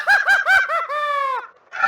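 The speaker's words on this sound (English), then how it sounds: "there is something called as a crazy laugh sound" A cartoonish crazy laugh effect from the Scratch sound library: a quick series of three or four bright, bouncing hoots followed by a longer sliding wail, loud and alone, ending with a brief fresh burst.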